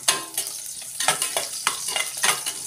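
Garlic frying in a pan with ginger sizzles in close, rhythmic bursts as it is stirred, each stroke lifting a bright crackling hiss before it settles back to a lower fizz.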